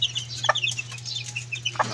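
Brassback chicks peep in short, high chirps, with a couple of clucking calls from nearby fowl over a steady low hum.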